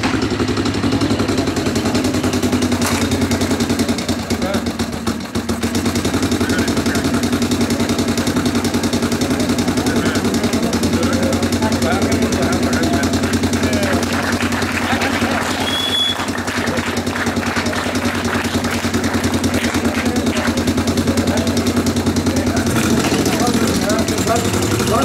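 A 1936 Nimbus motorcycle engine idles at a Danish vintage motorcycle gathering, a steady low throbbing rumble running throughout beneath continuous crowd noise and talk.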